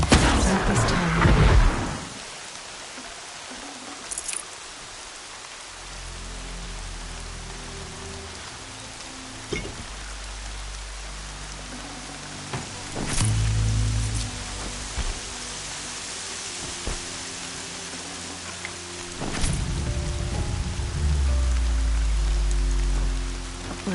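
Rain pours down in the open-world action video game Horizon Zero Dawn, a broad steady hiss of falling drops lasting throughout, with occasional deeper low rumbles and swells beneath, loud and close with no voices.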